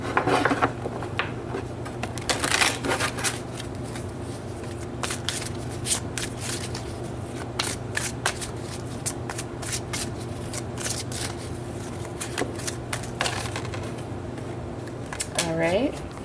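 Tarot cards shuffled by hand, a long run of quick crisp riffling and slapping bursts, close and clear, with a low steady hum and some soft talk beneath.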